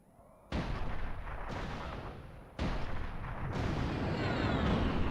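Heavy weapon fire from Mercenaries: Playground of Destruction on PS2: two big booming blasts about two seconds apart, each followed by a loud rumbling roar that keeps building toward the end.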